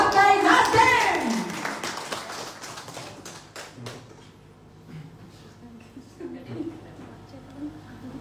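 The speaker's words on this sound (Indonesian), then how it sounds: "Sekali lagi kita beri tepuk tangan untuk Partai Nasdem." An audience at a 10th-anniversary celebration of the NasDem Party regional board in Merauke claps in a burst of sharp, close applause that thins out and fades after a few seconds, leaving faint scattered sounds.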